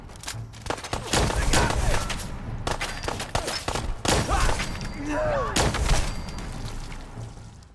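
Gunfight in the video game Fallout 4, with loud bursts of gunshots and rapid fire in clusters, heavy impacts and a shattering crack, and voices speaking in between.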